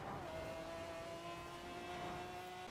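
Porsche 918 Spider in Forza Horizon 4 video game, its engine humming at a steady high pitch with a faint upward rise, fairly quiet under a layer of background noise.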